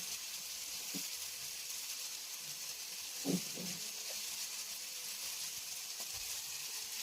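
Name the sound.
squid frying in a pan until golden brown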